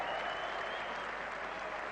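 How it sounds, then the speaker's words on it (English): Steady, dense applause from sections of an England supporters' crowd at a 1987 England versus Pakistan test cricket match, a continuous distant wash of clapping with no talk over it. "Broad applause from sections of the crowd, the England supporters"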